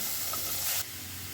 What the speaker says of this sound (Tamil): கால் காட்டு பாலக்கீரை சேர்த்து நல்லா வதக்கிக்கோங்க